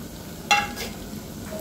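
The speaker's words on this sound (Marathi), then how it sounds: "आणि याला 2-3 मिनिटं छान सुक्या मसाल्याला आपल्याला परतून घ्यायचं आहे" Dry chili powder, salt, turmeric, goda masala and coriander powder stirred in a hot pan, a soft continuous sizzle with one sharp scrape of the spoon, close and alone.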